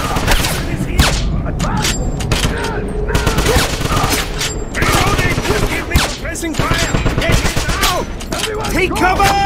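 Dense gunfire in a Wolfenstein game battle at a castle, with rapid bursts of automatic fire and booming shots piling over each other, while soldiers shout throughout.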